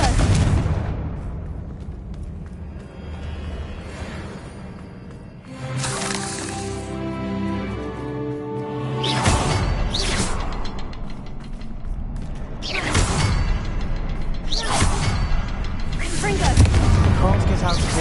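A Confringo fire spell bursts in the Hogwarts Legacy video game, with several loud booming blasts and rushing whooshes over a game soundscape, heard alongside talking.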